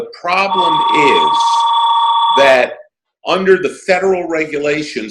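A telephone rings in a room with a loud, sustained electronic tone lasting a couple of seconds, heard under a man's ongoing speech, which then continues after a brief pause.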